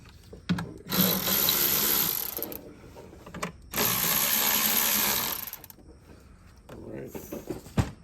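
Power tool ratcheting in bursts while working on a Gen 4 LS 5.3 V8 engine during a DOD/AFM delete, with two long loud runs separated by pauses and lighter mechanical clicks between.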